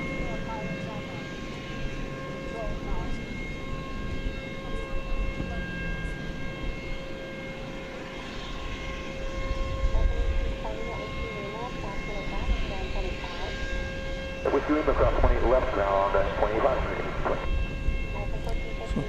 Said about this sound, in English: Flight 2387 from San Francisco, American Airlines. This will be an Airbus A321.